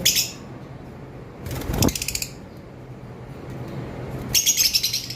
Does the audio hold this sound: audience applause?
no